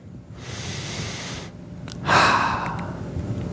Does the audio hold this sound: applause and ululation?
no